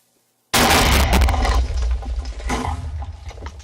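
A Minecraft TNT cannon fires with a sudden loud explosive blast after near silence, followed by crackling, rumbling debris that slowly fades.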